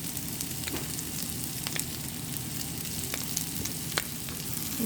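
Vegetables with cherry tomatoes and turmeric sauté in a pan, giving a steady, dense sizzle throughout with occasional sharp crackles and pops. The frying is close and continuous, and no one speaks.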